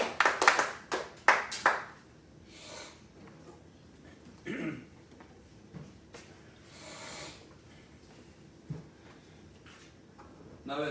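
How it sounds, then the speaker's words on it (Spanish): Church congregation claps in a few sharp bursts at the start, then the room settles into quiet with scattered coughs, shuffles and small knocks. "Démosle un aplauso a nuestro Padre Celestial."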